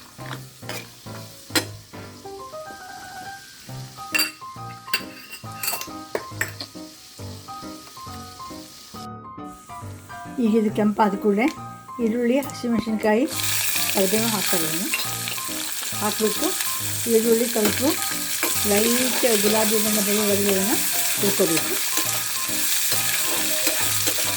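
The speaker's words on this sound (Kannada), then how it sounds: "ಒಂದು ಸ್ವಲ್ಪ ಶೇಂಗಾ ಹಾಕ್ತಾ ಇದ್ದೀನಿ ಹಾಕ್ಬಿಟ್ಟು ಒಂದು ಚೆನ್ನಾಗಿ ಕೆಂಪು ಕೆಂಪಾಗಬೇಕು ಇವು ಅಲ್ಲಿ ತನಕ ಸ್ವಲ್ಪ ಕಾಯಿಸ್ಕೊತೀನಿ ಹುರ್ಕೋತೀನಿ" Chana dal and peanuts roast in a pan for millet upma. Sharp scraping and clinking of stirring comes first, then a steady, close sizzle carries on under the stirring.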